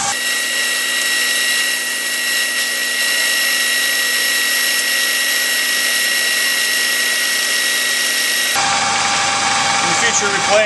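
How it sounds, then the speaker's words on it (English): Four square dyno gears whining under load, a steady high-pitched whine with a constant tonal drone that shifts abruptly near the end, loud and close. "As we apply more load, the gears will begin to whine a little bit more."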